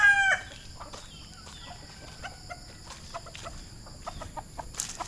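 A rooster gives a short crow at the start, followed by scattered clucks and chirps from birds nearby over a steady background hum.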